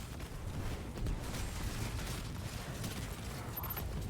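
Rapid gunfire from the video game Destiny 2, a dense, continuous clatter of loud overlapping shots and impacts lasting throughout, with no talking.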